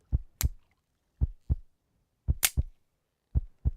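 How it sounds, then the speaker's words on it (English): Synthetic heartbeat effect in a fishing video game, a steady lub-dub thump repeating in close pairs, each beat a soft low thud with a sharp click on some, loud and alone with no talking. "Y'all gonna start hearing my heartbeat and the screen moving and everything else now"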